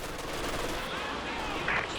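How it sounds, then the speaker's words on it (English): Artillery barrage in the strategy game Company of Heroes 2: a continuous, dense rumble of distant shelling and gunfire fills the whole span, with a brief sharper burst near the end. "COH2 barrage opening up"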